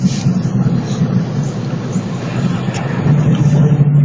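Interior drone of a Volkswagen Lupo 3L cruising at 100 km/h, a loud steady low engine and road rumble with wind noise, rising slightly toward the end.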